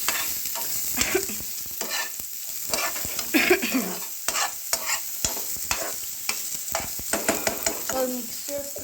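Soya chunks are stirred in a hot pan, giving repeated close scrapes and clatters of a spatula over a steady sizzle, in uneven strokes that spread across the whole stretch.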